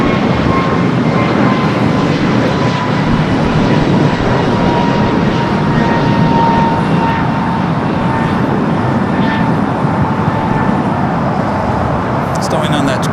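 A 23-year-old United Boeing 757 bound for Honolulu roars during takeoff at LAX, a loud steady jet rumble with a thin whine that holds throughout while someone speaks over it.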